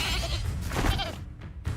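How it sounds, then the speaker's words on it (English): A sheep bleats briefly over a busy, noisy Hogwarts Legacy game soundtrack after an enemy is magically transformed into a sheep, the wavering cry short and mid-loud amid effects. "I just transformed it into a sheep."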